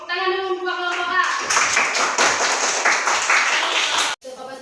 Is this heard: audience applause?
yes